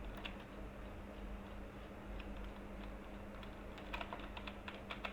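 Computer keyboard typing while entering placeholder text into a WordPress contact form: soft, irregular key clicks throughout, denser bursts of taps near the end, with a steady low electrical hum underneath.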